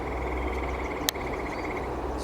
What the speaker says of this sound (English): There's a grey tree frog calling there.